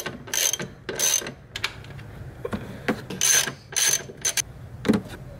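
Ratchet wrench working 15 mm nuts on a strut tower brace of an Impala, with bursts of fast clicking from the pawl in short runs, close and clear, separated by brief pauses.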